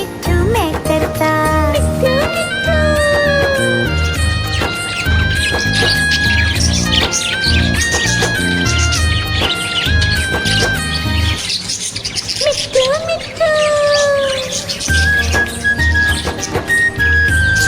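A budgie chirps and tweets repeatedly over a bright, loud Hindi children's rhyme with steady music, its calls woven through the accompaniment.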